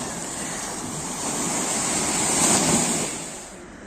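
Black Sea surf at Odesa washes steadily onto the shore in winter, swelling into a louder wave break before easing back, with a faint wind hiss.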